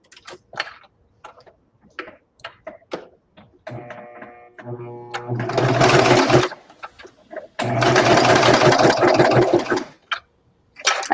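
A sewing machine stitches over a garment neckline in two loud, steady whirring runs, each a few seconds long, between scattered ticks and clicks of handling.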